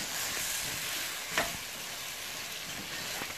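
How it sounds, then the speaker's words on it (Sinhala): Devilled chicken frying and being stirred in a pan, a steady close sizzle throughout with a brief louder clatter near the middle and no talking. "මේ ටික විනාඩි 3ක් විතර තමයි උයාගන්නේ."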